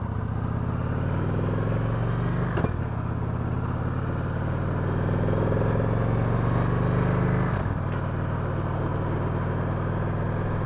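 A 2016 Victory Cross Country touring motorcycle rides along a road with turns and bumps, giving a steady, close engine drone with two brief dips where the pitch shifts.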